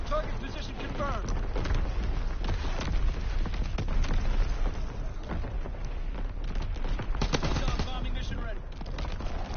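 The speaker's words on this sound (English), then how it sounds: "Firing primary battery." Primary battery guns fire in a WWII video game, a dense continuous barrage of booms and rapid shots under voices and game chatter.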